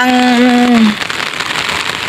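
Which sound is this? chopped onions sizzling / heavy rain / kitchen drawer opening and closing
heavy rain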